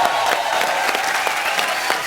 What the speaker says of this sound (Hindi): एक बार यूवी पाजी के लिए जोरदार तालियां